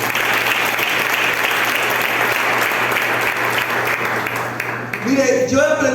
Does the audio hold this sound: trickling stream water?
no